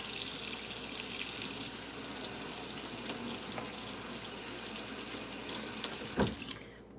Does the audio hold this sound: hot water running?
yes